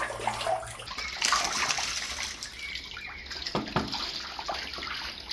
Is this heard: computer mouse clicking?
no